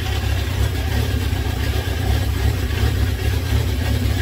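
A Honda CB750 K2 motorcycle engine idles low and slightly lumpy at about 900 rpm, a steady close rumble with no voices.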